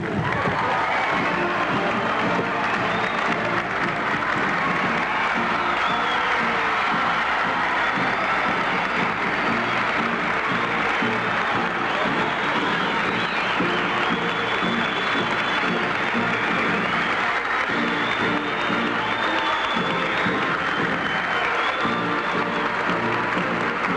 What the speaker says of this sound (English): With great enthusiasm, this crowd in the Duluth Auditorium is welcoming Jimmy Carter, President of the United States.